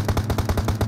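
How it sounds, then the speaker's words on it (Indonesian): An automatic weapon fires in a mobile battle video game, about nine loud, evenly spaced shots in a rapid burst. "Tembak terus"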